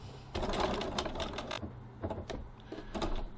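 A sewing machine runs in short bursts and pauses while stitching the adjustable strap of a tote bag, passing near a rectangular ring, over a steady low hum, fairly quiet and up close.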